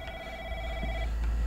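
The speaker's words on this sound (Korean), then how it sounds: "전화가 오는데요?" A telephone rings with a steady electronic double-tone trill that stops partway through, followed by faint rustling and low background rumble in a quiet room.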